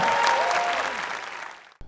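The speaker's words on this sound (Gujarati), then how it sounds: "આખી ટીમ માટે પણ તાળીઓ થઈ જાય એવરીબોડી કમ ઓન." Audience applause for the team at a comedy show, a dense burst of clapping from a live crowd that fades out over two seconds before a sudden cut.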